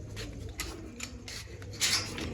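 Large pigeons cooing softly in a loft, with faint rustling and scattered brief sounds; quiet and close, no talk.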